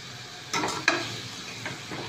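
Chopped spinach sizzles in a frying pan as a spoon stirs it, with a steady hiss and a couple of short scraping strokes close by, no talking.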